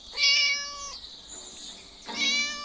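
In the Scary Teacher video game a cat gives two clear meows, the first bright and sustained, then a softer gap and a second rising meow, heard alone without speech.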